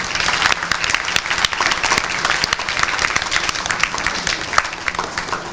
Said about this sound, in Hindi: जोरदार बजाइए तालियां।